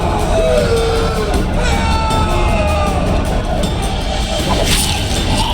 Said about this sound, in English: One person finds the courage to face the raging crowd.